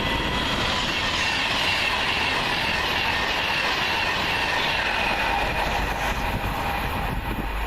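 A southbound Pendolino bound for Euston roars past at Cheddington, loud and close, with steady wheel rumble, rail clatter and faint squealing throughout.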